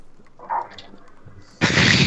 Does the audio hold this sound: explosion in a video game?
yes